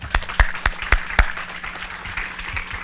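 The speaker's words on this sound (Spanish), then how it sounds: "Despidámoslos con un fuerte aplauso." Sparse clapping at a national groundwater colloquium in Mexico, a handful of distinct, sharp claps close by in an uneven rhythm before trailing into quiet room noise.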